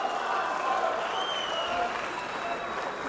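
Crowd applauding a female weightlifter's attempt at an IronMind strength event, a steady wash of clapping and cheering at moderate distance that holds evenly throughout.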